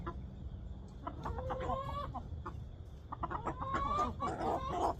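Several roosters crow and chickens cluck nearby, overlapping calls rising and falling against a steady background hum.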